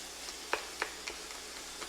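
Frozen corn sizzling in a cast iron skillet, a soft steady hiss with a few sharp crackles and pops spaced out, close and fairly quiet.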